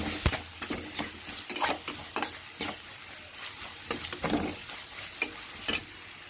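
A spoon scrapes and clatters around a pan of tomato curry seasoned with chili powder, in repeated stirring strokes over a continuous close frying sizzle.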